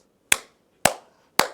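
Three sharp, separate hand claps ring out about half a second apart, each crisp and close with a short decay, demonstrating a clap used to bless or curse.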